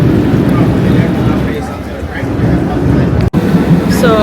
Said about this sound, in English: Oh, you can hear the engine.